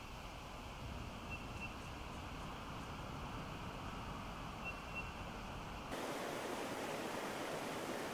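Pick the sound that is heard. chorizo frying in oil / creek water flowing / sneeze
creek water flowing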